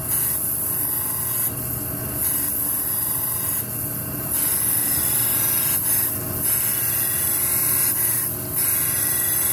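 A camshaft lobe being ground down to an oversize, a continuous rough abrasive rubbing drone with a few brief bright bursts of grinding, steady and close, no voices.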